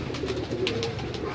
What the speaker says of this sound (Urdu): دیکھو نا چوئی صاحب نے ٹیڈی کبوتر بنائے نے